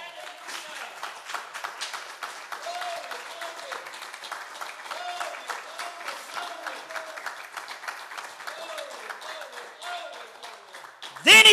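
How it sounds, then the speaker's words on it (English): A church congregation on a Sunday morning claps hands in a steady, continuous patter, with shouting voices and vocal exclamations rising over it and a loud burst right at the end. "Give the Lord a hand clap."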